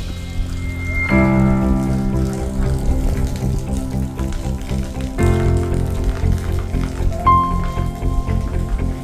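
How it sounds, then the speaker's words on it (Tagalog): Heavy tropical rain pours steadily around a rural hut during a thunderstorm, a dense constant patter with sustained tonal sounds layered over it. "Alakas ngayon ng ulan, grabe."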